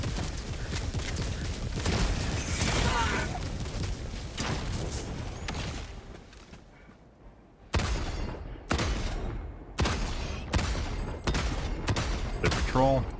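Heavy autocannon fire in Helldivers 2 on Helldive difficulty 9 against bots: booming, spaced single shots in a steady cadence with a reload pause, over dense battle noise and voices chatting.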